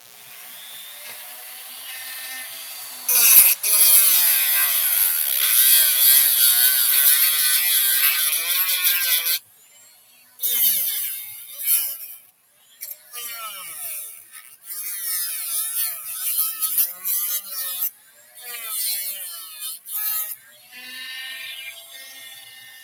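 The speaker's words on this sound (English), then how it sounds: "Dremel warning again." A Dremel rotary tool grinds nubs off a plastic toy blaster, a loud high-pitched whine in repeated bursts of varying length separated by brief pauses, close up with no talk.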